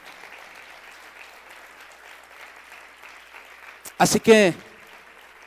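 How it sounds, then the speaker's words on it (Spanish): A church congregation gives applause to the Lord Jesus, a faint, steady wash of distant clapping that fades before a voice speaks briefly. "¿Cuántos le dan un aplauso fuerte al Señor Jesús?"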